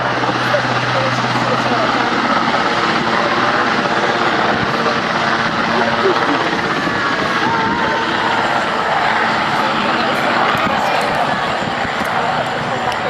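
An RAF Sea King helicopter, XZ587, hovers at the Cosford air show during a rescue display, its rotor and engine roar loud and continuous throughout, with a commentator's voice over the noise.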